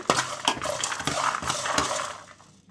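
Coriander seeds, cinnamon and cloves are dry roasted without oil in a pan, giving a brief, busy run of close metallic clinks and scraping rattles that fades out at the end.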